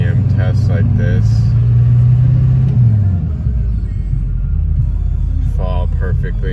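The diesel engine of a 2003 GMC Sierra 2500HD Duramax pickup revs up and holds a rising drone before dropping back to a low rumbling idle, with someone talking over it at times.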